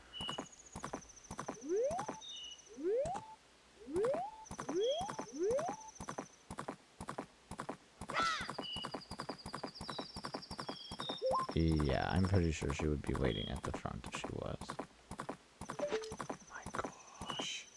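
Horse hooves in Zelda: Majora's Mask clip-clop in quick rhythmic runs alongside game whinnies and chimes, with someone talking over part of the sequence.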